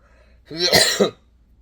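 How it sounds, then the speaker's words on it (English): A person coughs and clears their throat, a single short harsh burst with a rasping follow-up, close and fairly loud against a quiet background. "I cannot control my coughing."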